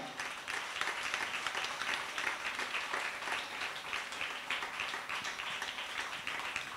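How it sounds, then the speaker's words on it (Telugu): An audience at a Ramayana discourse breaks into sustained, dense applause, a steady wash of many hands clapping together at even loudness throughout, with no one speaking over it. "ఒకసారి గట్టిగా స్వామికి చప్పట్లు కొట్టాలి కదా."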